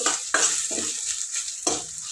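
Cornflour slurry stirred into frying cabbage manchurian in a pan: a steady sizzle broken by three or four sharp scraping stir strokes, close and moderately loud.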